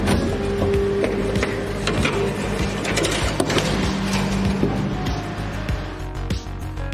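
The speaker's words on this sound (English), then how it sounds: "Trimans variable rake angle hydraulic shears operate with a variable rake angle" Trimans variable rake angle NC hydraulic shears, model HVR 425, run with a steady loud mechanical clatter, hum and repeated clicks throughout, with no voices.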